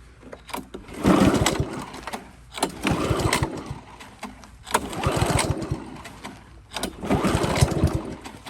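A Honda Harmony lawn mower with water in its gas, on full choke, is pulled four times in a row. Each recoil pull gives a loud, rattling burst of engine turnover that does not catch, with short quiet gaps between pulls.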